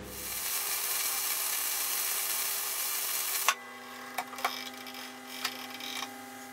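A lathe turns a part for a welding rotator with a dense, steady machining hiss and whir, then goes quieter to a low hum broken by a few sharp metallic clicks and taps.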